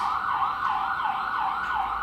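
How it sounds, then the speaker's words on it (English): Emergency sirens wail outside, a loud continuous rising and falling tone sweeping steadily with no other sounds over it. "you notice the pitch change in the frequency of the actual sirens outside?"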